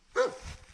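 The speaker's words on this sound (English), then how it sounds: "Nobody can hear you because the dog's barking" A dog on a farm, near workers pulling fence and a tractor, gives a single sharp bark, loud and close, followed by a short fading tail.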